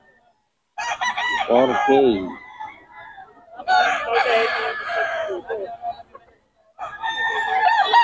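A Sweater Gold bloodline gamecock crows loudly and close by at a busy market, several drawn-out crows in succession, with people talking between and over them.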